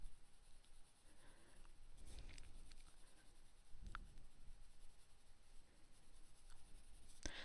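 Light green colored pencil scratching across paper in a coloring session, a soft continuous scribbling texture with a few faint taps and shifts, close and quiet with no talk.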